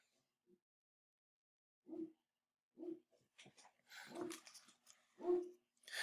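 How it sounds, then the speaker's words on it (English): A few short, sharp dog barks spaced out across the recording, with breathy sounds and faint movement between them; fairly quiet and close. "I'm just looking at what she's barking at."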